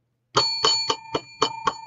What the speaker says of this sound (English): But here's the other bell, if you can hear this one.